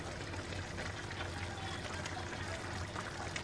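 A flour and water mixture pours into a pot of sweet and sour sauce, a continuous soft liquid pour with a hissing wash of noise lasting a few seconds, with no speech.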